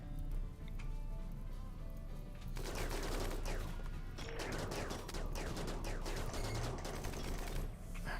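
Dense, distant gunfire from a RimWorld colony fight: steady crackling volleys of shots, fairly faint, with overlapping bursts and mechanical clatter running through the whole stretch.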